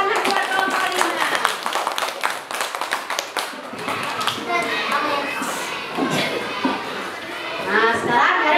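A school class claps for a group of classmates, with a burst of clapping at the start and lively children's voices and chatter continuing over and after it.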